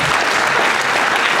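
An audience at the State of De Pere 2026 community event claps steadily and loudly, a dense, continuous burst of applause filling the room without a break.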